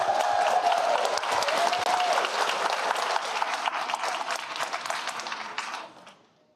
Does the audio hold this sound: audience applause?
yes